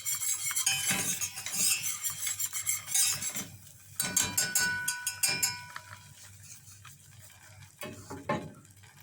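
A spoon stirs flour into melted butter for a white sauce in a pan, making a near, busy run of scraping and clinking strokes in uneven bursts with brief pauses, and no talking.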